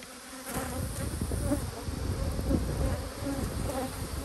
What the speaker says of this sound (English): A lot of bees in this